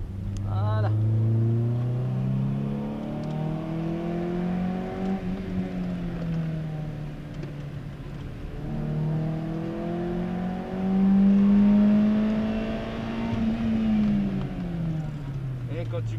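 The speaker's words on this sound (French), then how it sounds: "C'est pas la ligne que t'entends passer au régime, c'est l'admission." A Peugeot 206 GTI's engine revs up and falls back twice, the intake air box giving a loud, close rising drone, while people talk over it.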